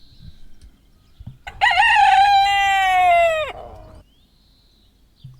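A rooster lets out one long, loud cock-a-doodle-doo close by, rising sharply and holding before dropping off, with quiet surroundings before and after.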